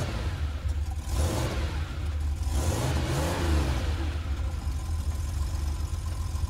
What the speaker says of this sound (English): Now let's imagine you're in a sports car.